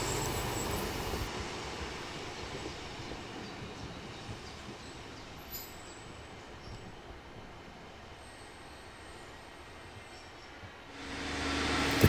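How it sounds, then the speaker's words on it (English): A northbound diesel multiple unit pulls out of Penryn on the single-track Maritime Line towards Truro, its steady rumble and wheel noise rolling on continuously, then swelling louder near the end. "the northbound DMU now proceeds out of Penryn, heading north towards Truro"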